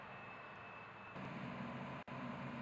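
A Deutz-Fahr M35.70 combine harvester running with a steady, moderately distant engine drone, a faint high whine fading out partway, and a brief cutout near the end before the hum resumes.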